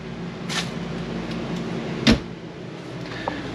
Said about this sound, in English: You also have more pull-out drawers as well.